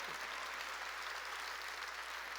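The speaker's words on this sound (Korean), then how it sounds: "깨달은 사람만 박수 쳐요." A church congregation at a Sunday worship service claps together, giving a steady, even wash of applause at moderate distance that holds without pause for a couple of seconds.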